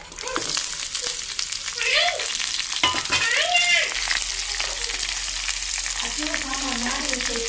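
Onion frying in hot oil with cumin, mustard seeds, dried red chillies and curry leaves, a steady close sizzle with stirring scrapes throughout, briefly marked by a few sharp clinks and tones.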